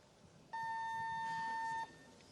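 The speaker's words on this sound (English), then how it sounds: "Thirty-second buzzer." A single steady electronic buzzer tone at a 53 kg weightlifting competition sounds for about a second and a half, clear and fairly loud over a quiet hall murmur, with no talking.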